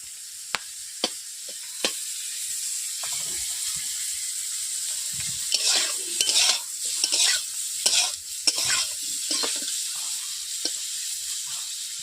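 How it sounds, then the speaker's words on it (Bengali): Prawns for a chingri malai curry sizzle in a wok as they are turned side to side, with a continuous close frying hiss, sharp utensil clicks and bursts of scraping and stirring. "মাছগুলোকে আমি উল্টে দিচ্ছি এপিট ওপিট করে"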